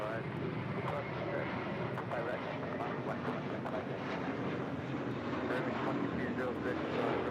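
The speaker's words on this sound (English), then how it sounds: "departing to JFK with JetBlue Airways Flight 624 and A321" A JetBlue Airways A321 airliner departs LAX, its jet engines producing a steady, broad roar that sits at a moderate distance for the whole stretch, with radio chatter faintly in the background.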